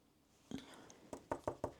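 Tapping on the small metal shim inside a Goosky S2 Max RC helicopter during after-flight servicing gives a single knock and then a quick run of four or five sharp, close knocks.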